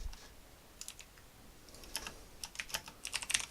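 Typing on a computer keyboard during coding, with quiet scattered key clicks that grow into a quicker, louder burst of taps toward the end, alone without talk.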